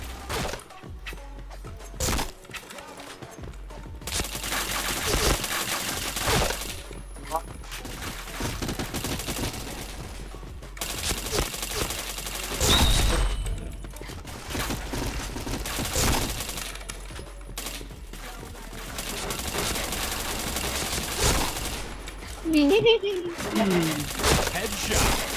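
Rapid gunfire in a video game shooter, with repeated bursts and sharp shots over a long stretch. The shooting sits close and loud, and a voice speaks now and then among the shots.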